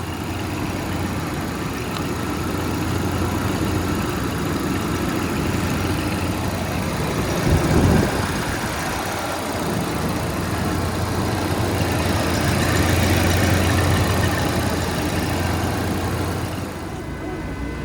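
A 1990 Jaguar XJS V12 idles steadily with a smooth, even low hum that holds for most of the stretch, one brief swell near the middle, no talking over it.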